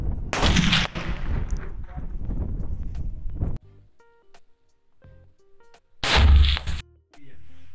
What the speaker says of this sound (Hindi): यहाँ से उधर फायर होने वाली है